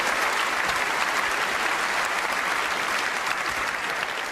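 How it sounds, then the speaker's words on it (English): Steady, dense applause from a crowd at the BAFTA Games Awards 2019 in London, continuous and loud throughout with no voices standing out. "Give yourself a massive round of applause."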